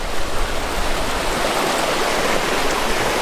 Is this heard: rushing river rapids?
yes